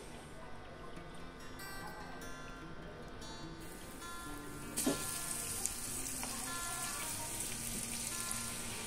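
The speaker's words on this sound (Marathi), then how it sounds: "आता आपल्याला वरून फोडणी द्यायची आहे।" Tempering (phodni) sizzles for a fresh pigeon pea kadhan with crushed garlic, a soft, steady crackle of hot oil that swells into a brighter frying hiss partway through, with a faint voice beneath.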